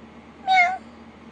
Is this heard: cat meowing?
yes